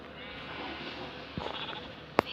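A single sheep gives a short, faint bleat at close range, followed by a brief sharp click, over a steady background hiss.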